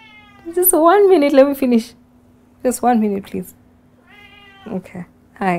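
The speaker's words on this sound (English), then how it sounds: "that's my cat" A house cat meows repeatedly in a home, its drawn-out, rising and falling calls coming close and clear in several bursts, with a person speaking between and over them.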